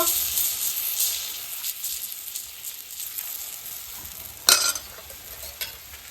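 Pudla batter sizzles on a hot pan with a close, hissing fry that rises and falls. A single sharp scrape cuts in near the end. No one speaks.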